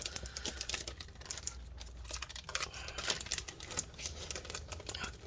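Adhesive is peeled off the inside of a 2020 13-inch M1 MacBook Pro during disassembly, making a close, continuous crackling and tearing, with rapid clicky bursts, for several seconds.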